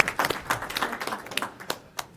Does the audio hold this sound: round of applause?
yes